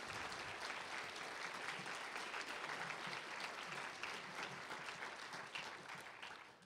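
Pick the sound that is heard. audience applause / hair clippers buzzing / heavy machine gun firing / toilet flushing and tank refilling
audience applause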